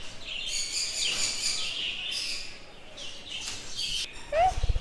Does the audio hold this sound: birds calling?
yes